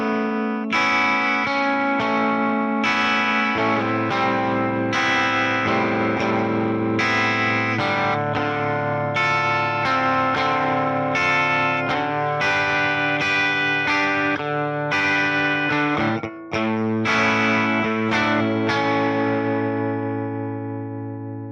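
Electric guitar played through a Fender Tone Master Pro with modulation effects, strumming rhythmic chords and picked phrases with chorus-like shimmer and echo tails, steady and loud for about twenty seconds without talk.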